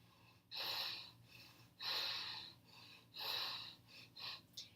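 Deep breaths during a yoga pose: four loud, breathy exhalations roughly a second apart, each a broad airy rush with a steady low hum beneath, the last one shorter and sharper.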